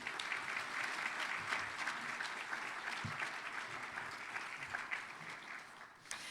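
An audience at a women's leadership awards ceremony claps in sustained, dense applause that holds steady for several seconds before thinning out near the end.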